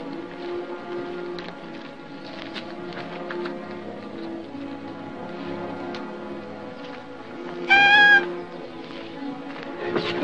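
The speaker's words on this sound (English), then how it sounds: "Squidge's squalling cat." A cat squalls once, a short high strained wail rising above a steady droning hum with faint clatter and background murmur, mid-distance and fairly loud against the continuous noise.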